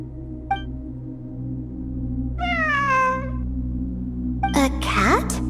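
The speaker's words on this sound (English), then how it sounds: "A cat?" A cat meows several times in Genshin Impact amid ruins, its short mewing calls rising over a low ambient game hum, with a longer drawn-out meow in the middle and a busier burst near the end.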